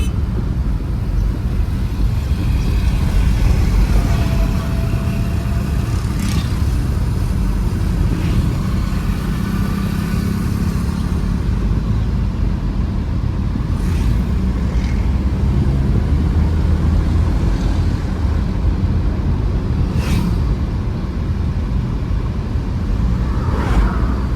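A used Toyota Hiace Boqsa van with an automatic door is driven through traffic, a steady low engine and road rumble heard from inside the cabin, with occasional faint clicks and rattles.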